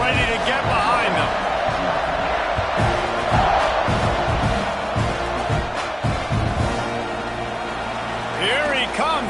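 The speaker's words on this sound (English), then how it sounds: "this crowd now ready to get behind them" Crowd noise fills a college football stadium at Texas A&M versus Oklahoma, a broad sustained roar of spectators with scattered shouts, while a commentator speaks over it throughout.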